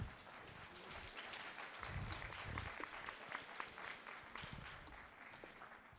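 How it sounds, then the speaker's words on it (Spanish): Steady applause from an audience at a book presentation, clapping continuously at a moderate, fairly distant level throughout. "Regálenle, por favor, un fuerte aplauso."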